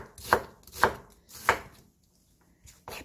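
A knife chops a quarter of an onion on a board in three crisp, evenly spaced strokes, then a short pause before two lighter cuts; close and clear with no talking.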